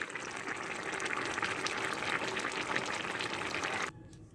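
Cooked fish curry with turnip is poured into a dish, a steady wet, bubbling slosh of thick liquid that runs evenly for about four seconds before cutting away.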